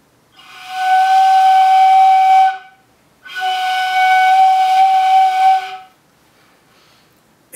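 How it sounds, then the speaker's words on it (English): Two long, steady breathy whistling tones from a ney flute, each about two seconds, with airy hiss over a clear pitched note and a short pause between them. "Then you make a small whistling blowing straight"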